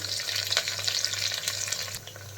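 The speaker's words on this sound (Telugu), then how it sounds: "ఆ తర్వాత ఇందులో కొంచెం కరివేపాకు కొంచెం పుదీనాకు వేసుకోవాలి" Green and dried chillies, curry leaves and mint fry in oil for paneer biryani, a close, continuous hissing sizzle with a few soft stirring scrapes.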